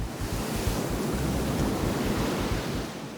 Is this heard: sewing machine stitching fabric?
no